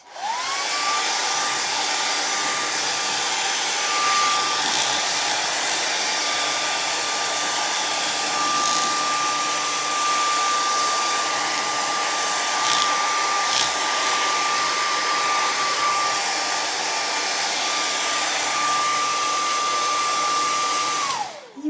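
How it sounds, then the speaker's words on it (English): A hair dryer blows steadily at close range, a loud continuous whoosh with a high whine, running for about twenty seconds before switching off. "So I'm gonna just hit it really quick again with the blow dryer."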